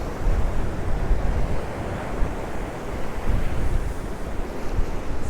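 Rough sea waves crash and roar under strong wind at Santa Ponsa, Mallorca, in a dense, continuous wash with gusty microphone buffeting, loud and close, no voices.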